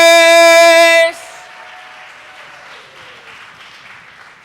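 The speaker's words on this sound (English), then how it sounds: "Start clapping, coming to the stage." Applause from a poetry broadcast audience rises as a loud tone cuts off, a steady wash of clapping that carries on at moderate level for several seconds as the performer comes to the stage.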